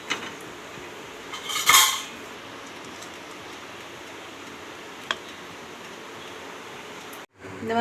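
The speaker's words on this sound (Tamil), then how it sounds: "ஓப்பன் பண்ணிக்கலாம். இந்த பாத்திரத்தில் கொட்டிக்கலாம்." Cooked sweet black kavuni rice puttu is tipped from a metal pot into another vessel, heard as a brief close clatter and scrape of cookware, then quiet with a single tick and a final knock.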